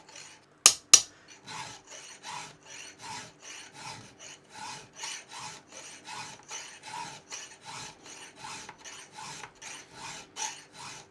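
Hand file sharpening a chainsaw chain tooth held in a vise: two sharp knocks at the start, then a long, even series of rasping strokes, roughly two per second, close and clear with no talking.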